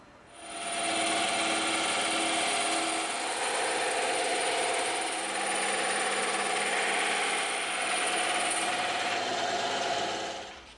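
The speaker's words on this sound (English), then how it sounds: "Now we can go over to the bandsaw and the scroll saw" Power saws, a bandsaw and a scroll saw, cut through EVA foam in a steady, loud, continuous buzzing whine that holds for about ten seconds, with no talking.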